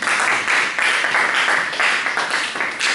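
Audience applause after a lecture on digital electronics and microcontrollers: a dense, steady round of many hands clapping, close and fairly loud, lasting the whole moment with no talking over it.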